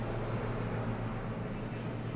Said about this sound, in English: sorry for the helicopter or the plane that's flying above. This thing is loud as shit.